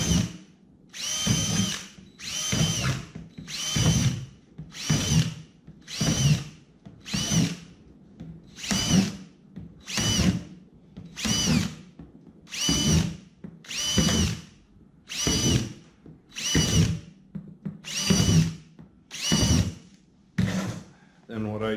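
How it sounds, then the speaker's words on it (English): A power drill punching drainage holes in a plastic bin used as a plant pot, about sixteen short whining bursts in an even rhythm, each a second or so long with brief pauses between. "What I gotta do is just punch some drainage holes in."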